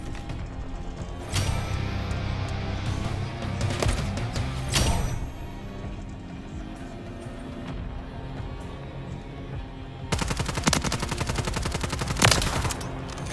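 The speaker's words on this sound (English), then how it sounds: "it took 10 billion years to shoot some other gun" Video-game gunfire from Call of Duty: Modern Warfare III cracks out in sharp shots early on, then breaks into a rapid, loud burst of automatic fire near the end, over a steady background hum.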